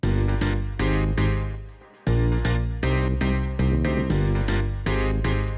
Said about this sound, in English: I added the bass,